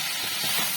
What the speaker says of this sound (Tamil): இந்த நேரத்தில் வந்து நம்ம க்ளீன் பண்ணி வச்சிருக்கிற இந்த ப்ரோக்கோலியை போட்டுடலாம்.